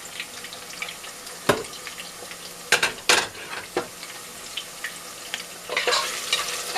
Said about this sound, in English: And I'll let it cook a little bit so I'll get that flavor from the onion.